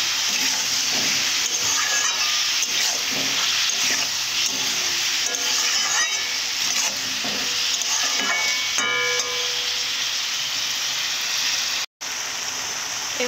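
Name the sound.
onions being fried and stirred for meat curry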